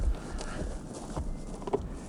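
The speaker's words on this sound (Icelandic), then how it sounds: "Það er ekki á hverjum degi sem Kisur fá að fara á hestbak." A horse in rural Iceland walks with a child and a cat riding it, its hooves giving soft, uneven clip-clops at close range over quiet outdoor background noise.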